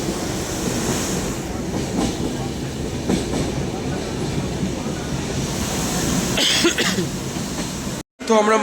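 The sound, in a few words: moving passenger train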